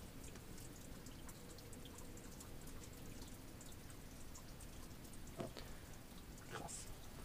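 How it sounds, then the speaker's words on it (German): Small stream of meltwater trickling and splashing beneath ice high on an Alpine mountain in the Berchtesgaden area, a steady close babble with faint drips and a couple of brief sharper splashes. "Hört sich an, als wenn da unten richtig so ein ganz kleiner Bachlauf ist."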